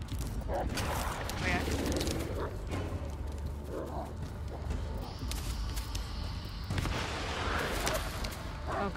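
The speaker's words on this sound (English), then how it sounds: "You can hear the gunfire as well." Scattered gunshots and distant battle noise from the video game Blair Witch, steady under continuous background rumble with occasional louder bursts.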